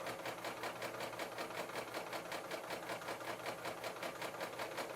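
Serger overlock machine stitching fabric, a steady fast mechanical hum with rapid rhythmic needle pulses running continuously and close, with no voices.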